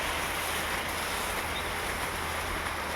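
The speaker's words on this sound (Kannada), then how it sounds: "ಈ ಥರ ನೀರು ಹರಿದೋಗುತ್ತೆ." Water gushing steadily from an irrigation jet on an areca and coffee plantation, a continuous broadband rushing hiss that stays close and fairly loud throughout, with no voices.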